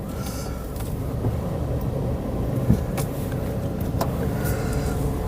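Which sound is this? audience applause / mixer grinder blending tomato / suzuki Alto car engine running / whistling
suzuki Alto car engine running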